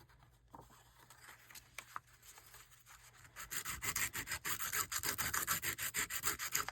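Emery board rubbing on paper for scratch embossing, quiet at first, then close, fast rhythmic scratching strokes building in loudness through the second half, with no talking.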